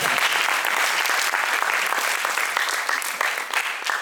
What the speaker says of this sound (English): And clap your hands, please.